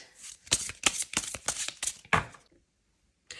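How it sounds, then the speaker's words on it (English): A deck of tarot cards being shuffled up close, a quick series of crisp riffling bursts for about two seconds, then silence. "let me just shuffle this deck here"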